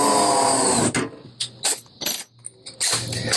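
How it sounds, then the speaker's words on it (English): A step drill bores a hole in sheet metal, starting with a loud continuous whine that cuts off, followed by several short clanks and bursts, then the drill whirs again. "I like using step drills in sheet metal because they have a straight flute and they don't pull themselves through sheet metal"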